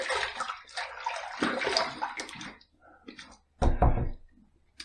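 Water splashes in short uneven bursts as a face is wetted at a sink before shaving, with sloshing and dripping separated by brief quiet gaps, close by, with no talking.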